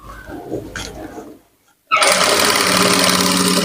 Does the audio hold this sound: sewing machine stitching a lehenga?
yes